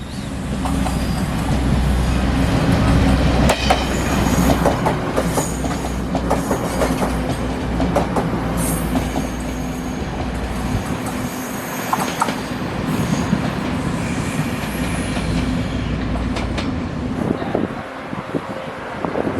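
A diesel railcar rumbles past nearby in Taiwan with rhythmic clickety-clack of wheels on rails and occasional metallic squeals, loud and continuous.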